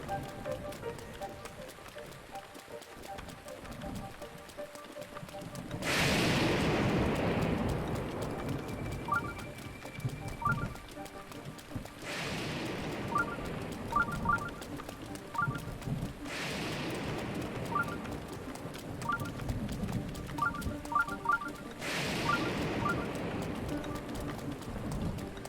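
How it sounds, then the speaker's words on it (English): Steady rain falling in The Legend of Zelda: Breath of the Wild, a soft continuous patter under game sound effects and occasional louder bursts, with no speech. "it's freaking raining, so I can't do that"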